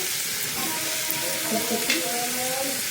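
Carrots hitting a hot pan for winter-vegetable pav bhaji, giving a steady, close sizzle and frying crackle with faint stirring, no talk.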